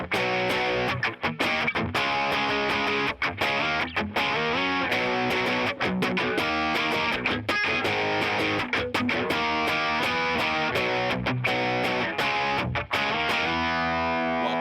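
A distorted electric guitar plays a dense, continuous riff with effects, loud and sustained with no pauses and no voices.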